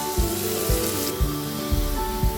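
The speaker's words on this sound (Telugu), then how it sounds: "ఉల్లిపాయలు ఈ విధంగా కొద్దిగా వేగిన తర్వాత" A thinly sliced medium onion fries in a little oil for a puffed-rice biryani, giving a steady close sizzle with soft, regularly spaced low thumps underneath.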